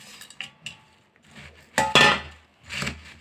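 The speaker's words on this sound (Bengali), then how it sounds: "তেল দেওয়া শেষ, এখন দিচ্ছি চানাচুর।" Chanachur tipped into a bowl while mixing homemade jhalmuri after oil is added: light clinks and a few dry rattling bursts, with a louder shaking pour in the middle and another toward the end, close by with no talk.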